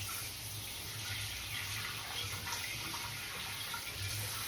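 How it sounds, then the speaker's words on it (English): Tap water runs steadily into a kitchen sink during hand washing, a continuous close hiss with light splashing and no breaks, no speech. "Gonna wash my hands real good."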